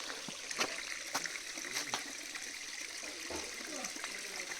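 Water from Shanigaram waterfall near Siddipet flows steadily in a constant rushing wash, with a few sharp clicks and thumps standing out over it.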